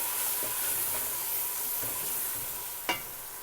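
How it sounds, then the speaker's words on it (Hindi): Soft steady sizzling of salt, chili and turmeric frying in a pan, with faint scraping strokes of stirring and one sharper clink near the end. "और इसको थोड़ा सा भूनेंगे।"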